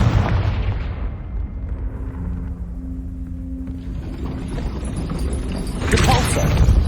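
A Confringo spell explosion in Hogwarts Legacy, a deep rumbling boom that opens loud and decays into a low hum, followed by another sharp burst near the end.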